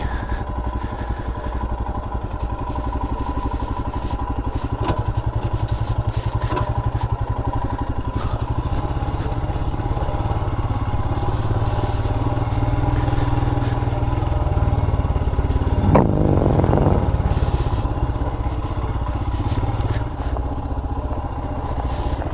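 A Royal Enfield Himalayan motorcycle rides off-road on dirt, its single engine droning steadily and close throughout with rattling clatter over rough ground and a brief surge in revs.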